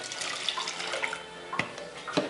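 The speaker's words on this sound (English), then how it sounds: "so here goes the lukewarm water" Lukewarm water pours from a container into a bowl holding sourdough starter for sandwich bread dough, a steady close splashing stream lasting a couple of seconds with no talk.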